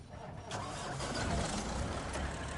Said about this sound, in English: Change truck. Start the engine.